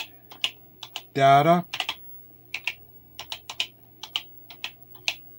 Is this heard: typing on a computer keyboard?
yes